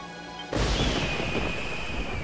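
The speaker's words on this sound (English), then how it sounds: "that was thunder and lightning" Thunder crash in the video game Dragon Quest XI, a sudden loud burst that cuts in after a quiet moment and rolls on as a dense, sustained rumble with a faint high ringing tone over it.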